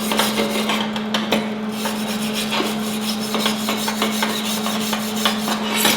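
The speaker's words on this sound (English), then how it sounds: "Now we're going to clean off those tacks with our stainless steel wire brush" Stainless steel wire brush scrubbing steady and close over MIG weld tacks on a metal workpiece, a continuous raspy rubbing with a constant hum underneath and a few sharper scrapes.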